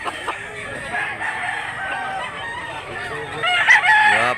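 A fighting rooster, a two-and-a-half-year-old derby-size gamecock offered for sale in Mantalungon, Barili, Cebu, crows near and loud late on, with clucking and soft voices from other people around it beforehand.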